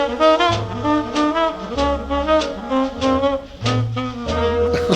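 Jazz saxophone playing a lick from a 1939 recording, a flowing run of breathy, expressive notes with bends and phrasing, heard close and clear over a low bass accompaniment.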